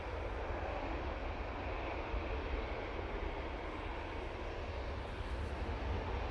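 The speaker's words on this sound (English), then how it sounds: "It's the Ryanair arriving." A Ryanair plane arriving at Manchester Airport makes a steady, fairly faint engine roar with a broad rushing wash, unbroken and without talk.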